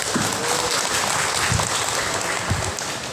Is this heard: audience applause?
yes